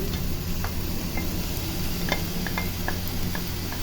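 Fried rice tipped into a wok of sizzling sautéed shrimp paste, giving a steady loud sizzle with light scraping and stirring clicks throughout.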